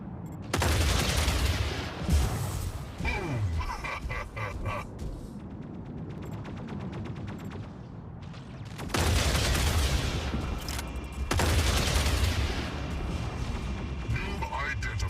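Dual javelin rack firing in the Mech Arena video game, mid-range missile launchers on a Brickhouse mech; loud rocket volleys and blasts come in two heavy bursts separated by a quieter stretch, partly under a talking voice.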